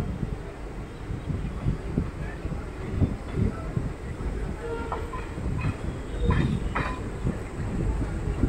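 The Sutlej Express Special train rolls out of Moga railway station in Punjab, its rumbling wheels and clickety-clack steady and fairly close, with wind noise across the microphone.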